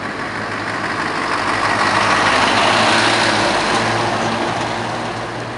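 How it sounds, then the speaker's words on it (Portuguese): A truck and a car pass along a street on the outskirts of a Brazilian town, making a steady loud engine rumble that swells and fades as they go by, with no talk. "Esperar o caminhão passar e o carro."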